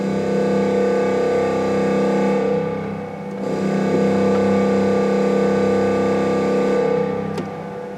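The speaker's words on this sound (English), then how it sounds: "Messiaen's extraordinary use of the organ." Deep, sustained organ chord from Messiaen's Things Visible and Invisible, a dense low drone with rich overtones that swells, dips briefly near the middle, then returns full and heavy.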